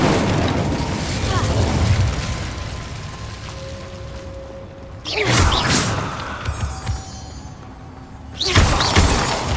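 The Incendio fire spell is cast twice in the Hogwarts Legacy video game, each time a loud, sudden whooshing burst over a busy background of game sound.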